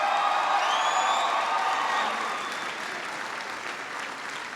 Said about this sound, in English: please give Staff Sergeant Randy Gray a big round of applause for the outstanding introduction.